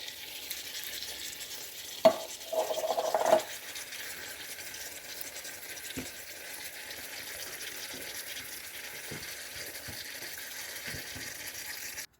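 Drained canned green beans sizzle in a frying pan with a low, steady hiss, a burst of louder crackling as they hit the hot surface, then soft scattered stirring taps.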